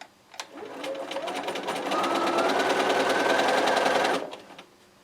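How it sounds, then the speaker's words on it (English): A sewing machine runs a quarter-inch seam on a quilt top, its motor whirring steadily for about four seconds at close range before stopping, with no talking. "I am sewing with a 1/4 inch seam."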